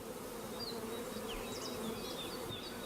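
Honeybees buzz around frames lifted from a hive while a four-frame nucleus colony is prepared, a steady faint hum with individual bees whining past near the microphone.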